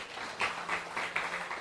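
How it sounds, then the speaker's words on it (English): Audience applause for a presenter at a pharmacist sensitization workshop: a soft, steady patter of clapping from a seated crowd, fairly quiet, with a few slightly louder swells. "Can we give him another round of applause?"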